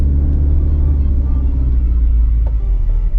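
A 2023 Honda BR-V engine pulls away on a steep incline of about 40 degrees, giving a steady, loud low rumble heard from inside the car with no one talking.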